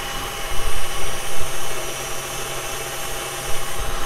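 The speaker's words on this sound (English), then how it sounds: "now we're going to whisk it at medium" An electric mixer whisks egg whites and sugar at medium speed, a continuous dense whirring buzz that swells and dips slightly as it runs.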